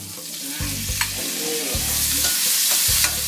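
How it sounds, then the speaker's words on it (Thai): Garlic and boiled carrots are stir-fried in a pan, a steady hiss of sizzling oil broken by several scraping stirs of the spatula, all loud and close. "ผัดสักแป๊บหนึ่งให้กลิ่นกระเทียมมันหอม โอ้กลิ่นเริ่มขึ้นนะ จากนั้นเอาแครอทนะครับที่เราต้มมาใส่ไปเลย"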